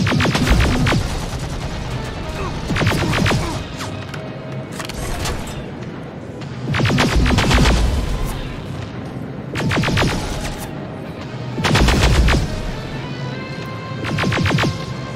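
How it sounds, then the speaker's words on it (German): Enemy gunfire in the video game Terminator: Resistance: several loud bursts of shots arriving in clusters every couple of seconds, separated by quieter background. "Ja, jetzt schießt er."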